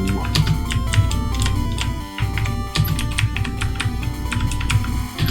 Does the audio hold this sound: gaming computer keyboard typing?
yes